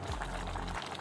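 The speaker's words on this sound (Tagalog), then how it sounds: "Ayan, kumukulo na siya." Moringa pods simmer in a pot of water, giving a steady low bubbling rumble and hiss for a second, with no voices.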